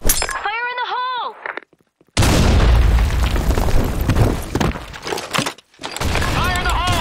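A grenade goes off in the online shooter Blackshot. After a brief silence comes a loud, abrupt boom with a long rumbling tail, and game voice callouts are heard before and after it.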